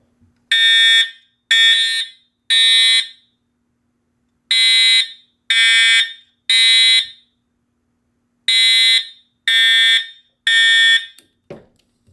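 A fire alarm horn set to low volume sounds in three groups of three short, even blasts separated by pauses, loud and close, ending with a brief click.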